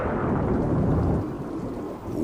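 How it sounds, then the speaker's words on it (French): A cartoon thunderstorm rumbles with deep thunder over a steady roar of pouring rain, loud and dense throughout. "une pluie battante dans quelques secondes"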